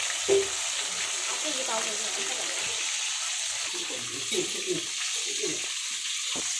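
Chicken pieces frying in a pan, a steady bright sizzle that runs throughout with occasional stirring clatter and a brief clink near the start.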